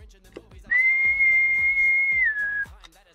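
Sustained whistle tone, about two seconds long, sent over a CB radio in single-sideband mode on channel 20 (27.205 MHz), with a slight pitch drop at the end and faint background crackle and low murmur around it.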